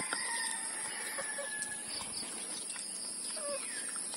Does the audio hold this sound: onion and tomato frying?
no